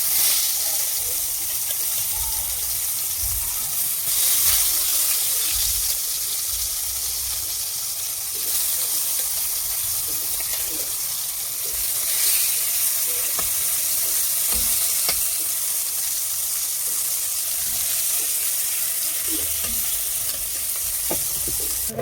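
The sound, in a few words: eggplant frying in oil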